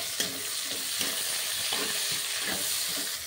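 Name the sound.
stirring tomato and green chilli frying in a pan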